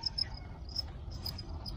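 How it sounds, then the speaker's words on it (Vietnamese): Crickets in a breeding bin chirping in short, high repeated bursts, close and fairly soft, with no talk. "Đây là thùng dế đẻ của mình nuôi được tới nay là khoảng bốn mấy ngày anh em"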